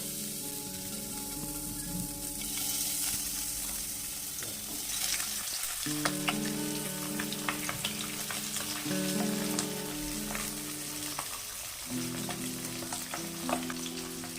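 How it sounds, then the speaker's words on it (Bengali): Pabda fish rubbed with salt and turmeric sizzling in hot oil, a dense, continuous crackling fry heard up close with scattered pops and light clatter, no voices. "গরম হয়ে গেছে নুন হলুদ দিয়ে মেখে রাখা মাছগুলো দিয়ে দেব"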